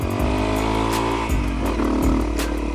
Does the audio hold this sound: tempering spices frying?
no